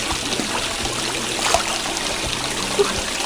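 Cold fresh mountain water on Mount Lawu gives a continuous close trickle and splash with a steady, even wash throughout.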